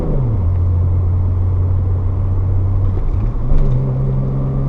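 A 1987 BMW 325is E30 climbs a hill at about 35 mph, its engine giving a steady, loud low drone from inside the cabin, with a brief dip in pitch and a slight rise near the end as the revs shift.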